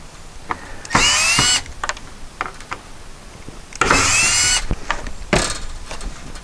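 A power drill with a Forstner bit cuts flat-bottomed holes into wood on a rotten cargo trailer door, in two loud close bursts with brief revving blips between them.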